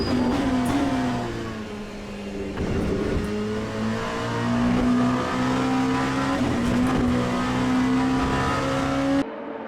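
Race cars in Le Mans Ultimate, a Monza P2 challenge, roar continuously as engines rev and accelerate, with the pitch rising and shifting between gears. The sound stays loud and close, then cuts off abruptly at the end.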